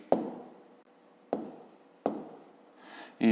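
A pen writes out a fifth-grade math exercise, with a few sharp taps on paper, each trailing into soft scratching strokes, close and isolated in a quiet room.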